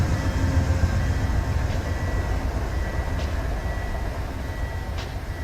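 An AI-driven freight train rolls past in the Run8 train simulator, a steady, dense rumble of wheels and rail noise with a few faint high squeals, and no voices.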